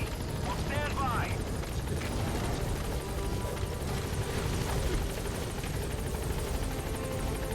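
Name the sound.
helicopter landing at LZ in Metal Gear Solid V video game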